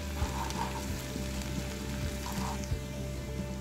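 Ginger garlic paste fries in a pan for chole, a soft steady sizzle with a few light stirring taps, low and close.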